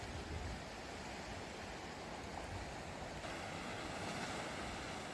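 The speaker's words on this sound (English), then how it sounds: "Lovely Irish sea, lovely calm." Calm Irish Sea waves washing steadily against a rocky shore below steep cliffs, a continuous broad surf wash with light wind, no voices.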